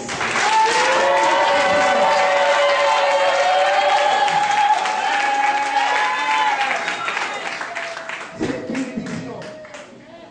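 A church congregation applauds and cheers loudly in acclaim of the Lord, dense sustained clapping with raised voices and sung tones that carry on and then taper off.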